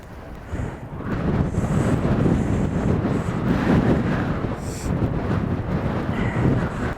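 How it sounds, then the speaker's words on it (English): Strong gusts of wind roar and buffet the microphone continuously outdoors in South Africa, a loud, low, unsteady rumble with no clear talk. "Oh, windy out here."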